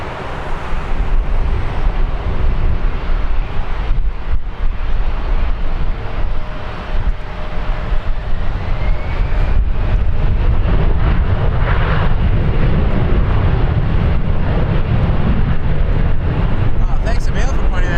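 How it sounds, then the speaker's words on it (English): An Airbus A380-200 roars down runway 23 at Toronto Pearson on its takeoff roll, a loud, sustained low rumble heard from a distance, buffeted by heavy wind noise on the microphone. "Airbus A380 200. Cleared for takeoff, runway 23."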